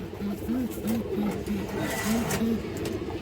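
Restless female pigeon in a cage, giving a string of soft, repeated coos at a steady pace close by, with a busy background of voices and room noise.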